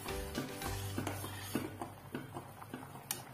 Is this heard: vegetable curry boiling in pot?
yes